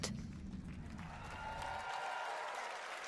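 Audience applause at the Summer Game Fest live showcase, a steady wash of clapping from a crowd that holds evenly for a few seconds without any voices over it.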